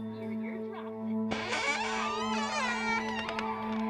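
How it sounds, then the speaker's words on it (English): A door in a video game opens with a sudden loud creaking, scraping burst that swells over a steady electronic drone and fades out gradually. "The door noise, that's crazy."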